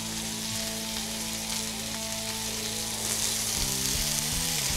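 A burger patty fries in a hot pan, a dense and constant sizzle that runs steadily throughout, close and fairly loud.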